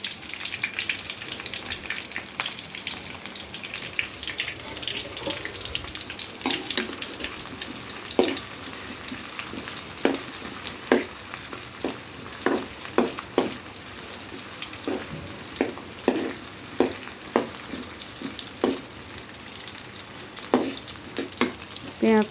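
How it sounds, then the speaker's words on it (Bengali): Chopped onions sizzle in a pan of hot oil for beef pickle, a steady frying hiss broken by sharp crackles and pops from stirring, close and fairly quiet with no talk. "পেঁয়াজগুলো কিন্তু খুবই ভালোভাবে ভাজতে হবে"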